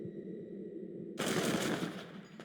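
Gunfire in the Red Dead Redemption video game: after a quiet hum, a sudden loud burst of shots erupts and rattles on, then fades over about a second.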